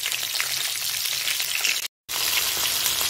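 Turmeric and salt marinated fish frying in a pan gives a steady, close, bright sizzle that cuts out for a moment, then carries on just as loud.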